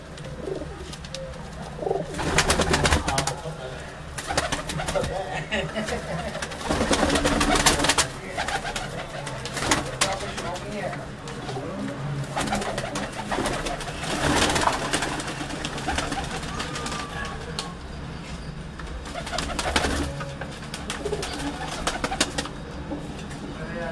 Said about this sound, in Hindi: ये भट्ट साहब ने सारे ये तमाम जो कबूतर हैं एक जोड़े से उन्होंने आगे ये तमाम कबूतर बनाए हैं।